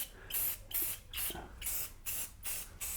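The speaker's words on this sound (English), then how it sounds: "you'll really need to spray at different angles to get them" An aerosol spray can hisses in about six short bursts, close and fairly loud, with brief pauses between each spray.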